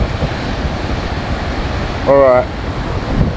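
Steady broadband roar of surf and wind on the beach at Forster, NSW, constant and close, with a brief spoken word partway through.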